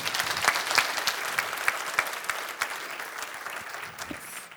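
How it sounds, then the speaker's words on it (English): Applause rises from the crowd at an innovation-day opening event, a dense, even wash of many hands clapping that carries on throughout with a few sharper claps standing out near the front. "a really big applause to all the people that you see here in the photos"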